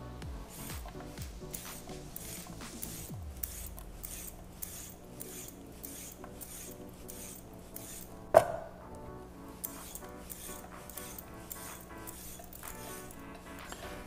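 A carrot is peeled with a peeler, making close, rhythmic rasping strokes that repeat steadily, with one sharper knock partway through and no talking.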